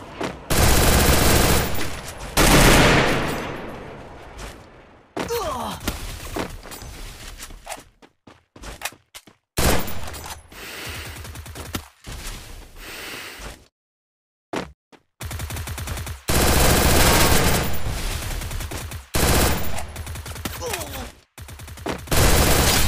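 Video game gunfire from a battle royale match, with long bursts of automatic fire and scattered single shots broken by short silences, and someone talking between bursts.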